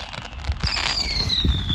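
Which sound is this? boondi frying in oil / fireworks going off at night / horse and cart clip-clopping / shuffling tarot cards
fireworks going off at night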